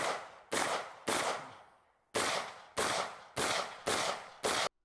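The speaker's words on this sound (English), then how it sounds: "You get the gun sound from right next to him, and then you also get the gun sound a couple yards behind him" Real firearm shots ring out one after another, about seven sharp loud cracks each trailing into a long fading echo, some heard close to the shooter and some from a few yards behind, with no talking.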